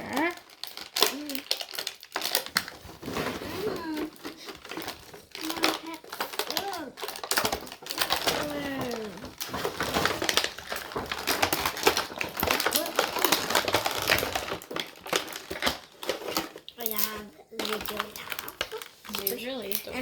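Two layers of plastic packaging crinkle and rustle as Adopt Me toys are unwrapped, with bursts of close crackling under frequent conversation between an adult and a child.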